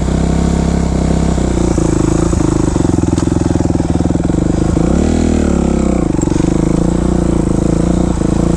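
A 2005 Kawasaki KX 250F dirt bike engine idles loud and close with a steady throbbing rumble, briefly rising in revs partway through before settling back to idle.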